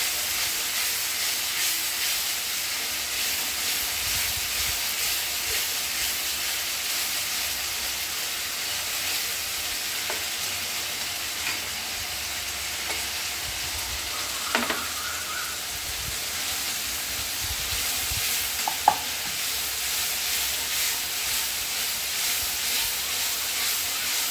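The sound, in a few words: masala sizzling and stirred with added chicken stock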